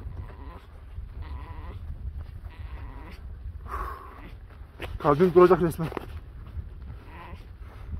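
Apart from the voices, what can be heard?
lamb bleating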